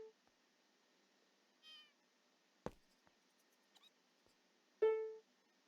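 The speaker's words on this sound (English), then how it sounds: "Oh, the ocelots have new sound effects." Two short ocelot meows from Minecraft, one faint and one louder, separated by a sharp click and a few soft ticks in otherwise quiet surroundings.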